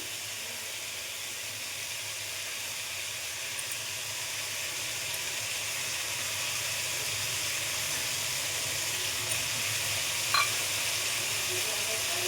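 Onion drops into hot oil in a pan, holding a steady, moderately quiet frying hiss that runs unbroken, with one small clink near the end.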